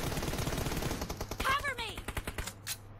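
Rapid automatic gunfire in a mobile TDM shooter game, bursts of shots fired in quick succession throughout, with a voice talking over the shooting.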